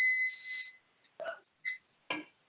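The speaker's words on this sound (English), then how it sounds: "And my timer just went off" A loud electronic kitchen timer goes off while sauce simmers on the stove, giving one long steady beeping tone followed by a few short bursts of clattering and rustling.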